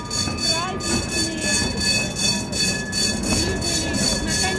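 Trams rolling past during a festive Christmas parade of trams and trolleybuses, with a steady rumble of wheels, rhythmic clatter and thin squeals, heard up close.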